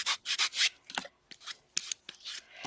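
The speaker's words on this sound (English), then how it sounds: "I took an old sanding block from Stampin' Up and I just rubbed over top of it" Dry, scratchy rubbing of a sanding block over a paper flower in several short back-and-forth strokes, close up, with brief pauses between passes.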